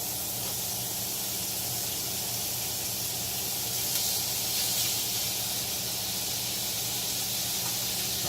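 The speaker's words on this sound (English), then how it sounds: "So now we're going to put this sausage in" Sausage sizzling in a hot pan on a breakfast griddle as it starts to cook, a steady, close hiss and crackle holding evenly throughout with no talk.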